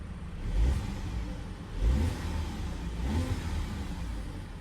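A 2025 VW Atlas Cross Sport SEL R-Line AWD in comfort mode revs in three distinct rising pulls over a continuous engine drone. The car is close and moderately loud, with no talking.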